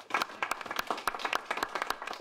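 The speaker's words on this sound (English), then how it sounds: "Why is everybody clapping?" Scattered clapping from a small group at an AA meeting, with distinct individual claps standing out sharply in an uneven, close rhythm over a couple of seconds.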